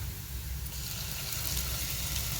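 Sliced onions fry in a pan for mutton gravy curry, giving a steady, close, even sizzle and crackle throughout with no pauses.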